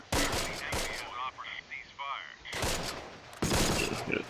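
Machine guns fire in the Close Combat: Last Stand Arnhem game, rapid loud bursts at the start and in the second half, with quieter tonal game effects between them.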